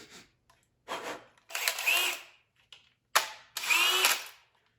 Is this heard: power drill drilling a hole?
yes